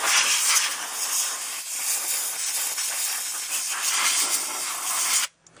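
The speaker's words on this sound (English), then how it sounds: "First, I want to use my air hose." Compressed air blasts from a hose to blow loose sand out of a car body under rust repair, a loud continuous hiss lasting about five seconds before cutting off abruptly.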